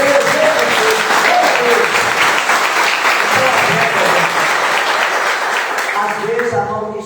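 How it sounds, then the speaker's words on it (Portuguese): A church congregation applauds loudly, with dense, sustained clapping from many hands that fades slightly near the end as a voice begins speaking. "Aplauda-se Jesus."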